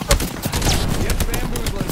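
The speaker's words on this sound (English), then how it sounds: "Getting shot at." Rapid bursts of gunfire in a shooter video game, sharp repeated shots packed close together, with a player talking at the same time.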